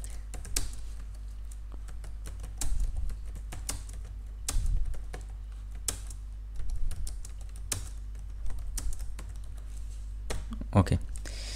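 Someone types a sentence on a computer keyboard in Microsoft Word: irregular bursts of sharp key clicks with pauses between, close and clear over a low steady hum, with a person's voice speaking faintly at moments.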